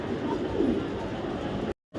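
A racing pigeon at a pigeon farm coos in a low, soft, continuous murmur close by. The sound cuts to brief silence near the end.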